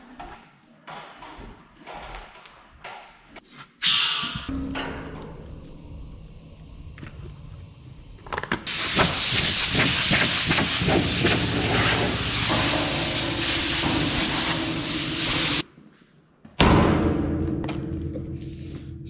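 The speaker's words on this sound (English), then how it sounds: "we're going to take care of that by putting some surface cleaner on it and hitting it with the air hose" An air hose blasts dust off a freshly sanded paint surface, with short hissing bursts followed by a long, loud rushing blast of air, then another burst after a brief pause.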